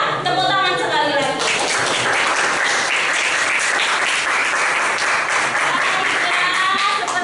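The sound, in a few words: applause in a classroom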